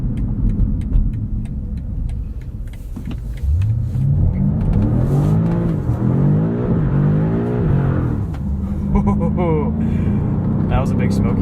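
A 2022 BMW M5 CS engine revs hard and climbs repeatedly in pitch as the car slides, loud and close from inside the cabin, with tyre noise and a person talking over it.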